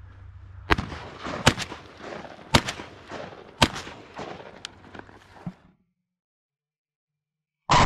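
Several sharp, loud 28 gauge shotgun blasts ring out in quick succession during a Wyoming duck hunt, each with a short echo. The firing stops and then goes silent.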